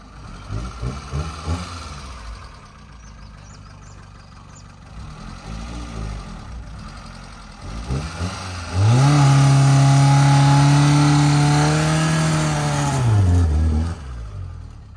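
A Fiat Uno engine climbing off-road through deep sand, rough uneven running at first, then a loud sustained high rev held for several seconds before dropping off, heard close without talk.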